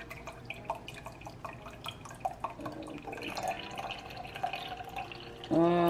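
Breast milk trickles and drips from a pump bottle in soft, uneven splashes, faint and close, ending with a brief louder clatter.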